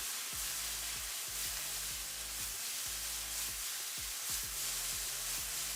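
Tomatoes fry in a pan as a soft, steady sizzle, broken by repeated low thumps and scrapes of the pan being moved, close and fairly quiet with no voices.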